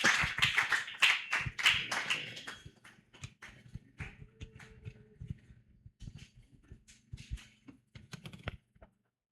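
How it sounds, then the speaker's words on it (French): A church congregation applauds during a Thursday service; a burst of clapping fades into scattered, sparse claps and taps, with no one speaking. "Applaudissez le Seigneur Jésus"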